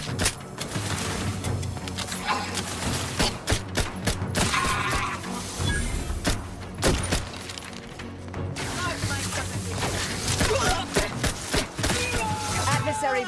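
Rapid gunfire bursts and impacts in The Outer Worlds 2, sharp cracks and crashes stacked over a busy, loud combat mix with a synthetic voice and music underneath.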